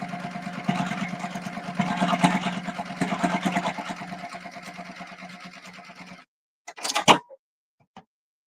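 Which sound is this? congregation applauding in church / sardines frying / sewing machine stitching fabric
sewing machine stitching fabric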